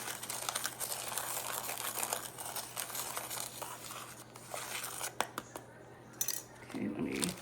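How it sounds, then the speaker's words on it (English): Spices being shaken and mixed inside a plastic bag, giving a steady crinkling, rustling sound at close range, with a few sharper crackles near the end. "let me mix that in the bag here"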